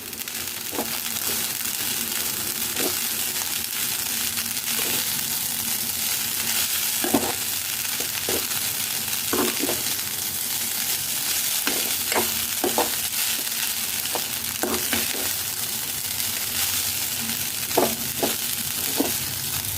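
Carrot rice with chopped coriander is stirred in a pan, giving a continuous soft sizzle broken by irregular scraping strokes of the spoon, with no talking.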